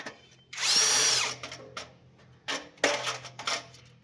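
A power screwdriver whirs in a sustained burst while backing screws out of a gas geyser during repair, followed by shorter clicks and bursts of the tool handling the fasteners, close and fairly loud with no talk.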